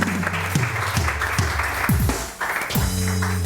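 Studio audience on a Pakistani morning talk show claps for a guest named Ayesha, a dense steady patter of applause with music-like tones and a voice rising over it.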